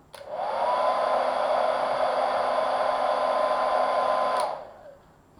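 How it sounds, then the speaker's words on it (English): A hair dryer blows steadily at close range for about four seconds, then switches off and the whirr fades. "Here is your countdown for a blast of a hairdryer"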